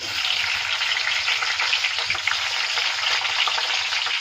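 Green chillies fry in hot oil over a low flame, giving a dense, constant close-up sizzle with fine popping throughout and no voices.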